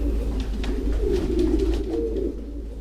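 Doves coo softly in their loft in low, rolling murmurs, with faint rustling and a steady low rumble beneath.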